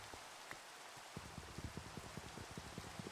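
Rain in the Minecraft video game, a steady hiss with scattered drop patters that quicken toward the end, faint and with no voices.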